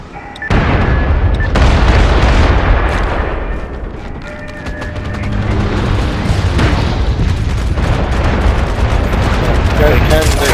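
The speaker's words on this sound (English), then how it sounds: "They're trying to put up the mortar again." Mortar and gunfire explosions in the online shooter MAG during a Domination match, loud booming blasts and crackling fire layered continuously over ten seconds with a dense battle din.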